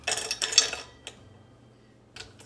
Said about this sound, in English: So we're gonna start stirring, and it's already melting.